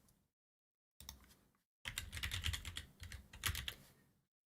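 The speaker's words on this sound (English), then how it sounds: "Sorry if you can hear my keyboard." Fast typing on a computer keyboard comes in quiet bursts of rapid clicking separated by short silences, close and faint, with no talking.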